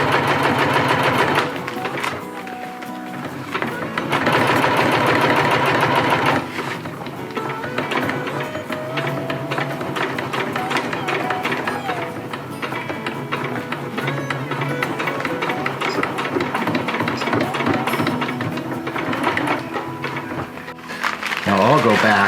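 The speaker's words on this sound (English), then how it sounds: "Keep sewing." A sewing machine runs almost without pause, stitching a Dyneema stuff sack in a dense, steady mechanical whir, loud and close throughout.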